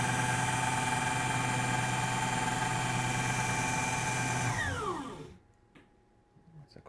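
A small electric motor in a self-charging generator project, driving a pulley and band-saw belt, runs with a loud, steady whine, then cuts out and spins down with falling pitch, leaving near-silence.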